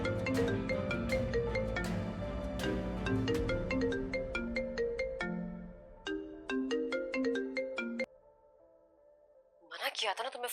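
An incoming call sets off a melodic phone ringtone, a clear run of bright, repeated electronic notes lasting several seconds, then cutting off before a voice briefly speaks.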